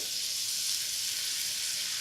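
Cream poured onto melted butter in a hot non-stick pan sizzles with a steady, bright frying hiss that stays even and fairly quiet throughout.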